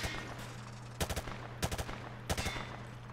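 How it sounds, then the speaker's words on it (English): A weapon fired from the hip in Call of Duty Modern Warfare 2 on a shooting range: three short bursts of rapid automatic gunfire, evenly spaced, each a tight cluster of sharp cracks over a steady low hum. "Grab that weapon off the table and fire at the targets behind you."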